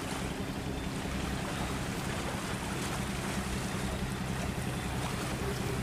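A fishing boat with lamp rigging, about 15–16 metres long, races at speed toward Binh Ty port; a continuous loud engine roar and rushing water wash hold steady throughout with no talking.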